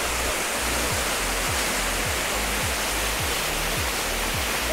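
Pattathippara waterfall at Pananchery, Thrissur, pouring steadily as a constant broadband rush of falling water, loud and unbroken, with faint low rumbling underneath and no talk.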